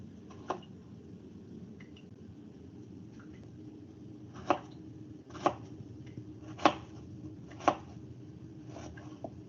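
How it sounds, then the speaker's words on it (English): A knife chops food into semicircular pieces on a board, giving a few sharp, isolated taps spaced irregularly over a steady low background hum, fairly quiet and close, with no talking. "now we will be doing a little bit of chopping"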